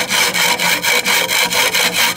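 Hand saw cutting wood clamped in a vise, about nine quick even back-and-forth rasping strokes, loud and close with no talk.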